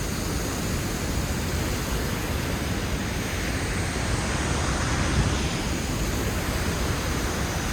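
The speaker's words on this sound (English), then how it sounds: "Look at the power of that water." Powerful river water rushes through the Torrs gorge at New Mills, a dense, unbroken roar that holds steady and loud throughout with no other sounds.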